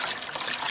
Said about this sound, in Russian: Итак, мы наливаем сюда водичку.